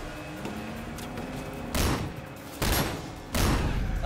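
Gunfire in the video game Sleeping Dogs, with three loud bursts of shots close by over a continuous din of background noise.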